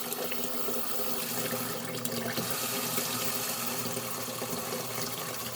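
Tap water runs steadily into a cooking pot set in a kitchen sink while collard greens are prepared, a continuous close rush of splashing water with no talk.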